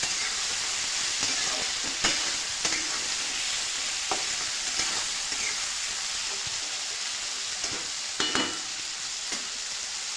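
Mixed vegetables and peanuts are sautéed in a pan for a Bhogi vegetable dish, giving a continuous loud frying hiss broken by occasional spatula scrapes and clacks, close up and with no voices.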